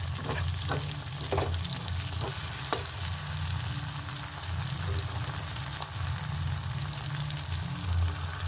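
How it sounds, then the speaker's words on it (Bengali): Spice paste frying in a pan (kadai) over already-fried onion and tomato for a Rupchanda pomfret curry, giving a steady close sizzle throughout with a few stirring scrapes and no talk. "এখন এর মধ্যে মশলাটা যে পেস্ট করে রেখেছি এটা এখন দিয়ে দেবো"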